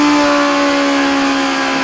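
A 2017 Suzuki GSX-R1000 motorcycle engine holds a steady, loud drone on a dyno at about 7,000 RPM, its strong tonal hum sustained without change and no voices over it.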